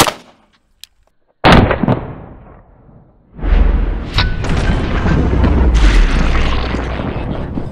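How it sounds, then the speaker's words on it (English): A 9mm handgun fires a single sharp, very loud shot into a ballistic torso. A few seconds later a sustained, loud rumbling noise starts and lasts to the end. "This is 9mm take 2 against the ballistic torso in the chest."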